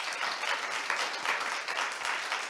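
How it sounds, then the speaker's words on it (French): An audience at a panel discussion on the connected hospital of the future applauds steadily, a dense wash of many hands clapping at even strength with no voices standing out. "On applaudit nos panélistes."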